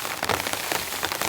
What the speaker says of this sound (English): Just when I'm about to pack up, it starts raining.